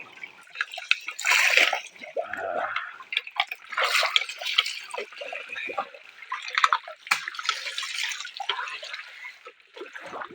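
Water splashes and gurgles continuously, rising and falling in uneven bursts like a small stream running over stones nearby.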